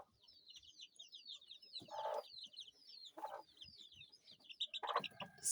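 Kienyeji chickens cluck at a feeding place on a farm in Kenya, a few short clucks standing out near the microphone over a steady, busy chatter of small birds and chicks.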